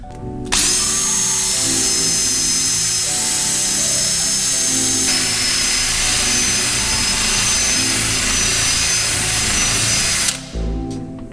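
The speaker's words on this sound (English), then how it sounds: "So I want to just take a wire wheel. We're going to clean up the faces and the inside here" A wire wheel on a power tool runs at a loud, steady whine for about ten seconds, scrubbing the rusty faces of suspension bushings on a 2012 Subaru Forester, then cuts off near the end.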